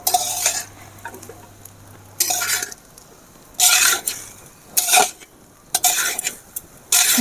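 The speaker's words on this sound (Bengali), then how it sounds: "এবারে আস্তে আস্তে করে নেড়ে নেব আমি।" A spatula stirs sugar into food in a hot pan, with scraping strokes in repeated bursts separated by short pauses, close and clear against a faint sizzle.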